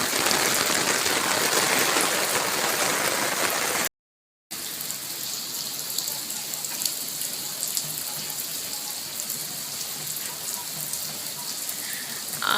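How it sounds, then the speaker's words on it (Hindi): Heavy rain pouring down outdoors, a dense steady hiss of drops on surfaces, close and loud, with one brief cut to silence partway through. "बारिश तेज़ है।"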